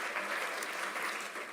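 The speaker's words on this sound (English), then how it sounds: "Can we give Maritza and Los Niños Primero a big round of applause?" Dense audience applause fills the room at an event, a steady wash of many hands clapping at close range.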